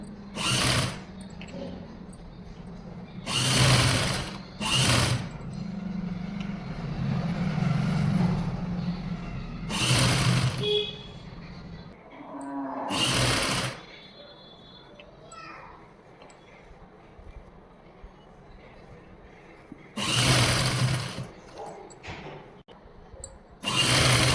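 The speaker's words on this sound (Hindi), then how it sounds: "बिल्कुल इसके किनारे पर हमने सिलाई लगानी है, देखो गले पर।" A sewing machine stitches along the back neck edge of a blouse in several loud, close bursts of rapid whirring, separated by pauses filled with someone talking and children's voices in the background.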